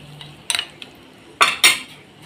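Turmeric and salt being stirred into kadhi batter with a metal spoon, a few sharp clinks and scrapes against the bowl in short bursts between quiet pauses, with no talking.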